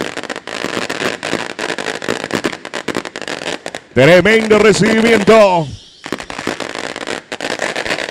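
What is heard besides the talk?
firecrackers going off at a football match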